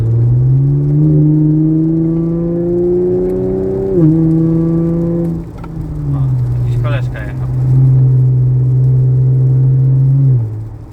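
A Chevrolet Camaro on a night drive downshifts to third: its steady, low engine drone dips, then settles back into a strong, even hum that holds to the end.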